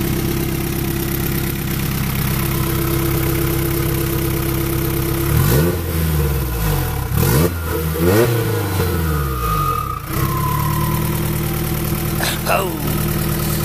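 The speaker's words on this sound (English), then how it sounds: "the turbo, since it's bigger, you hear it like wind up a lot more" A Honda Prelude with an F20B engine and a Precision 6266 turbo idles, then revs hard several times with rising turbo spool whine and a flutter as the throttle closes, while people talk nearby.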